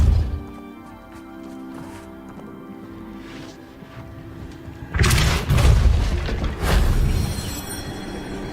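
A Depulso force spell cast in the Hogwarts Legacy video game bursts out with a loud, broad whoosh and thump after a quieter stretch, followed by two more heavy impacts in quick succession.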